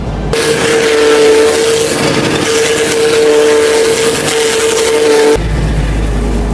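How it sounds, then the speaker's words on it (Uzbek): A silage chopper shredding dry fodder runs loud and close, with a steady mechanical roar and a sustained whining hum for about five seconds before it cuts off abruptly. "qo'l va quruq hashay mahsulotlarni mana shunaqa qilib silos qilib beradi"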